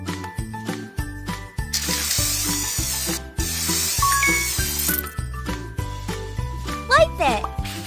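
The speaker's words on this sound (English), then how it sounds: "Spray on some rust remover." A spray bottle of rust remover in a children's cleaning video game gives a bright hissing burst of about two seconds over bouncy, tinkling game music, followed by chimes and a rising sparkle effect.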